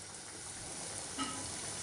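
Onion and coconut masala fries gently in a pan over low heat, giving a faint, steady, even sizzle throughout.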